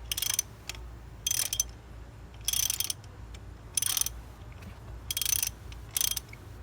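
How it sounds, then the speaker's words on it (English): A ratchet wrench tightens a spark plug in a 2008 Pontiac G6 2.4 litre engine, giving six short bursts of clicking at a fairly even pace over a low background hum, with no talking. "when it starts to tighten up, you don't have to be the Incredible Hulk. You just get it kind of a snug fit down in there"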